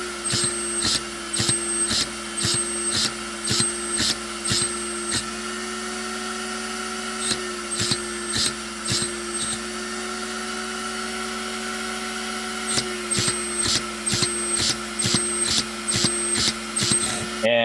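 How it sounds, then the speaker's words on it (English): An older Hitec servo in an RC car whines in quick repeated high-pitched bursts, near and buzzy, pausing briefly before more rapid pulses. "it flexes the servo quite a bit because this is it's an older Hitec servo"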